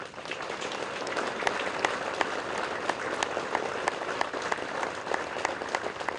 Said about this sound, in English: So let's give these Marines a round of applause.